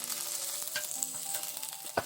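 Close, quiet sizzling and crackling of meat, garlic scapes and vegetables stir-frying in a pan, with a few clinks and scrapes from stirring.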